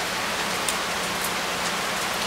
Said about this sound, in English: But right now we just can't do anything with the rain and it stinks.